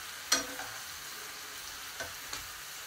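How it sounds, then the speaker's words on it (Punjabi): Spices frying in a pan for a homemade fish fry, a steady faint sizzle with a few sharp stirring clinks and scrapes spread across the stretch. "ਹੁਣ ਮਸਾਲੇ ਭੁੱਜੇਗੇ ਅੱਲਾ ਦੇ ਫਜ਼ਲ ਨਾਲ।"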